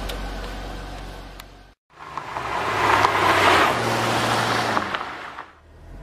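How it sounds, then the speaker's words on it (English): A Chevrolet Corvette C5 coupe rolls along at idle in drive, a steady low engine drone with road and tire noise, briefly cut out, then returning and swelling slightly before easing off. "The car's in drive, and I'm just idling along here."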